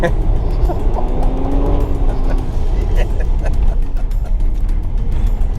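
Lexus IS300 sedan driving off-road through sand at the Gambler 500 rally in Southern California, a steady engine drone and rumbling tyre noise with people talking over it.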